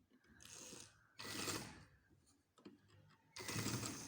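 A sewing machine stitching a two-panel baby frock runs in bursts of mechanical whirring, three stretches separated by brief pauses, close and fairly quiet with no voice.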